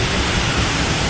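Düden waterfall pouring down inside a cave in Antalya, a dense, steady roar of falling water filling the space, loud and unbroken.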